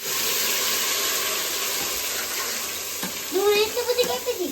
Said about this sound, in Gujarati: ડુંગળીની પેસ્ટ નાખી દીધી